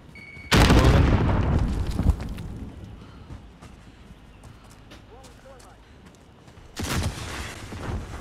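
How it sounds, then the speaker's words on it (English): A frag grenade goes off in Warzone Rebirth with a loud, deep blast that rumbles for over a second, then a second heavy boom near the end, over a noisy battle-royale background. "Throwing grenade. Frag out!"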